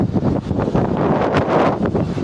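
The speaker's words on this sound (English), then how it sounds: "Bit windy up here, because look how high I am." Strong wind blows across a high rooftop in a Vietnamese city, buffeting the microphone in loud, gusty bursts that rumble and roar without pause.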